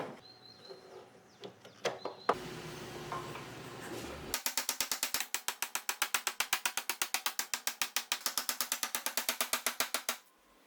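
A helical cutter head being fitted into a Ridgid R4331 planer, a few metal knocks and a brief scrape, then a long, steady run of rapid, even ratcheting clicks that stops abruptly near the end.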